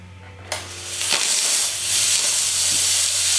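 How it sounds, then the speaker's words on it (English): A Hoover Steamjet steam mop gives off a steady, loud hiss of steam that begins sharply and keeps going without a break, with faint clicks near the start and no talking. "But it's a good steam output on this machine."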